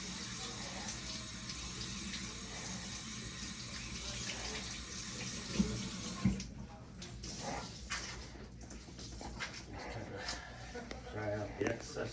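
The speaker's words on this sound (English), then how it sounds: "Then we're gonna go ahead and get this wet. And you can do it with lukewarm tap water." Lukewarm tap water runs steadily from a faucet to wet a total contact cast roll, a continuous hiss that shifts partway through as the roll is held under the stream, with soft handling sounds.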